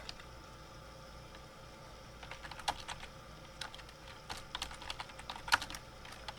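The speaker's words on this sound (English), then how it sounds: "I'm struggling here typing." Irregular typing on a computer keyboard with clustered key clicks and short pauses, close and fairly quiet, no voices.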